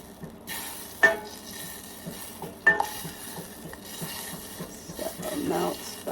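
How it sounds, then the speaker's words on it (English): Butter melting in a small pot on a stovetop gives a faint, steady sizzle, punctuated by a few sharp clinks of a utensil against the pot and some stirring scrapes. "Melting the butter."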